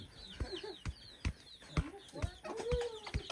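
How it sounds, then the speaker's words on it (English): Small chickens cluck and peep in quick, scattered bursts, fairly close, with faint background noise between calls, in Samoa. "Yeah, the little chickens."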